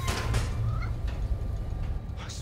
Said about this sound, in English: Just need to find Tails' cat.